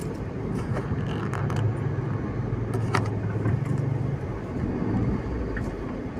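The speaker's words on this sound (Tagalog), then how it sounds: "Traffic." Road traffic heard from inside a moving car: a steady low rumble of engine and tire noise with a few faint clicks and knocks, continuous throughout.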